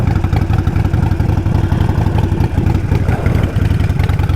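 A Harley-Davidson Nightster 1200 motorcycle engine runs loud and steady up close, a dense throbbing idle with a lumpy, clattering pulse and slight rises in revs.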